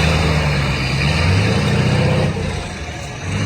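A huge 38.8 litre V12 engine that once powered a hospital runs steadily, a loud, dense low rumble holding constant, dipping slightly in the final second.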